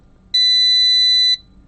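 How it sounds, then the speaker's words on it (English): A single electronic buzzer on a small STEM robot sounds one steady, loud, high-pitched beep for about a second, then cuts off cleanly over faint background hum. "You saw the light and the buzzer go on."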